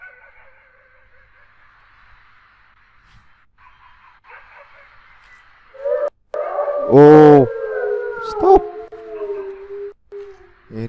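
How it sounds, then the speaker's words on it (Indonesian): A wolf howls in the horror video game Home Sweet Home: long, wavering tonal cries rise and fall, with a loud swelling howl midway. Sparse speech sits around it. "Suara serigala kayak gitu."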